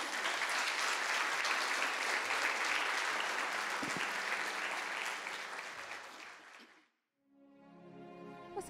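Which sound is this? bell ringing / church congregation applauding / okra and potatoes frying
church congregation applauding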